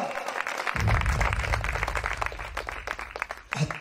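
A church congregation claps loudly and steadily for several seconds while music plays underneath, and a deep low tone swells beneath the clapping.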